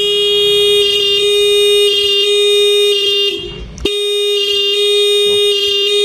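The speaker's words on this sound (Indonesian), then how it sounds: "saat kita double starter, nih, klakson pencet, pencet aja." A 2019 Honda Beat motorcycle horn blares as a steady, loud electric tone, dipping and going briefly quiet while the starter is pressed, then returning at full strength, with no one talking.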